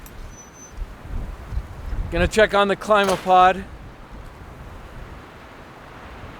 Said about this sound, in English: it's really windy. We're hitting probably 40-mile-an-hour gusts.